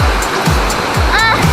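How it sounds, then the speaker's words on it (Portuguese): Waterfall at Cachoeira da Fumaça, a steady broadband rush of falling water in the background, with splashing and voices of people nearby talking over it. "Mostra a cachoeira lá atrás"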